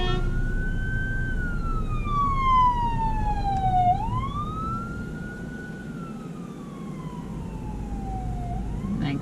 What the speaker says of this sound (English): We have an ambulance coming up behind us.